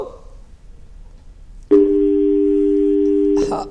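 A telephone rings on a call-in education programme: one steady electronic tone, loud and clean, sounds for under two seconds after a quiet pause, then stops abruptly.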